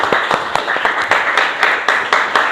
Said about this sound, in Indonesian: Iya, kasih aplaus dulu.